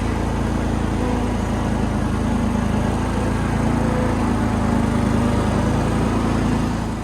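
A Yazoo-Kees zero-turn mower drives up a ramp, its engine a loud, close, steady drone that holds an even pitch for the whole stretch, with no voices.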